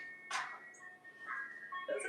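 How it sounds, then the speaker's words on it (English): Chiming ice cream truck jingle from outside, soft and a little distant, a few tinkling notes that come and go. "That's the second time we heard an ice cream truck then."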